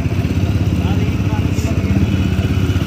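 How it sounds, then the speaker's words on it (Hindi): TVS Apache 200 BS6 motorcycle running at high speed, around 90, with a steady loud engine drone and wind rush throughout, heard from the rider's position. "ये देखो बाइक बहुत स्पीड में चल रही है"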